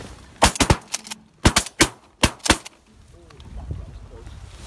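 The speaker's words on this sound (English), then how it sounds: "How many shots are you guys gonna take?" Shotgun blasts on a duck hunt in Southern Ontario: about seven loud, sharp reports fired in three quick bursts over the first few seconds, followed by open-air ambience with faint voices.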